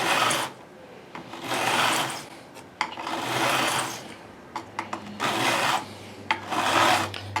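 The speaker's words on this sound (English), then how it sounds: "I'm starting at the top end, backing up, overlapping my file strokes as I go" A metal file worked over the frets of a 1970 Les Paul Custom guitar during a refret, giving repeated rasping strokes in bursts of about a second, with small knocks between passes.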